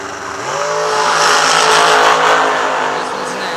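A dragster engine at a drag racing event at Kil-Kare roars loud and close, building quickly and holding a steady high-pitched howl before easing off near the end.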